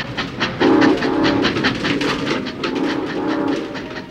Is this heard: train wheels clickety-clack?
yes